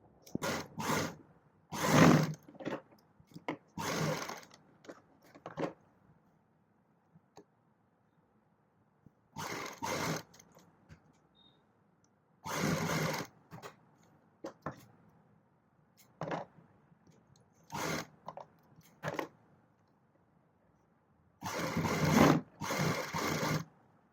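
A sewing machine stitching the shoulder seams of a garment runs in several short bursts separated by quiet gaps, close and moderately loud, with no talking over the whirring.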